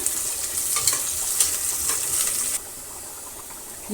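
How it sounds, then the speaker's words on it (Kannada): Green chilies added to browning onions in a hot pan for chicken biriyani, a close, steady bright sizzle with stirring scrapes that drops to a quieter hiss partway through. "ಈಗ ಒಂದು ಏಳು ಹಸಿಮೆಣಸಿನ್ಕಾಯನ್ನು ಹಾಕ್ತಾಯಿದ್ದೀನಿ ಈರುಳ್ಳಿ ಜೊತೆಗೇ"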